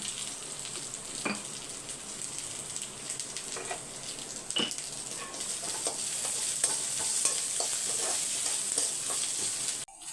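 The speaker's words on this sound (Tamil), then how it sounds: "தேங்காய் போட்டு வதக்கிட்டு உப்பு சேர்த்துக்கோங்க உப்பு புளி கொஞ்சமாக புளி உப்பு சட்னிக்கு தேவையானது" Grated coconut sautéing in a pan with salt and a little tamarind for chutney, giving a steady close sizzle with scattered stirring scrapes and small crackles throughout, no talk.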